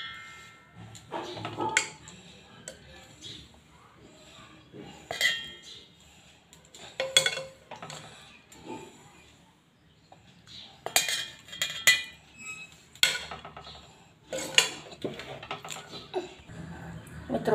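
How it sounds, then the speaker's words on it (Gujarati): Boiled chickpeas, fresh from a pressure cooker, are spooned into a mixer jar for hummus, giving scattered sharp metallic clinks and scrapes at close range in irregular bursts, fairly quiet overall. "આવી રીતના મિક્સરના જગના અંદર કાઢીશું આપણે."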